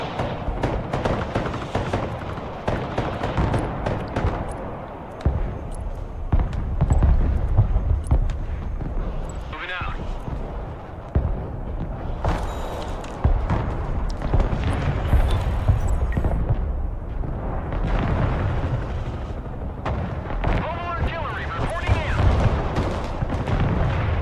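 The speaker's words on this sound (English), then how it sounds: "I'm firing artillery now with it." Artillery firing in the Broken Arrow video game, with repeated heavy booms and explosive thumps scattered irregularly among rumbling battle noise, while players talk over the action.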